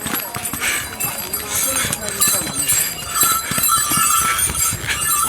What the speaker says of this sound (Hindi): और ये ऐसे ऐसे रास्तों पे घोड़े चल रहे हैं।